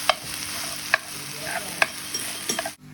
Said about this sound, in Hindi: अब अंडे को मिक्स कर दें ताकि वो अच्छी तरह से पक जाए।